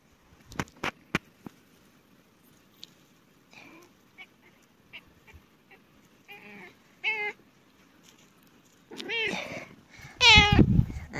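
A cat meows repeatedly in a quiet garden in New Zealand, scattered short cries and faint sounds building to a few loud, drawn-out, close meows at the end.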